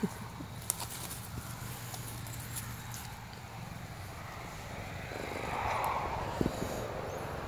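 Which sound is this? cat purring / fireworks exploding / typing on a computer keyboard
cat purring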